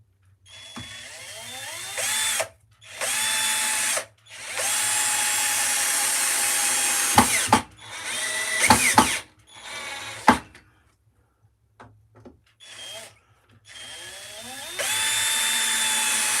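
A power drill drives screws into wood in a series of loud whirring runs, some long and steady, others short bursts, each rising in pitch and stopping abruptly, with quiet gaps and clatter between them.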